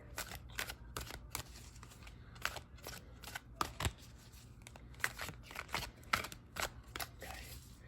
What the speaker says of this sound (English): I'm going to just clear the deck, and I heard to pull 2 cards for you